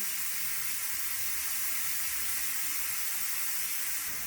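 Steam hisses steadily from the pressure-release valve of a Tefal One Pot electric pressure cooker, a loud, continuous broadband rush that holds level for several seconds with no voices over it.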